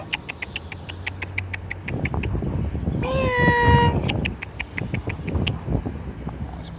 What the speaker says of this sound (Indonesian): Ada kucing tuh.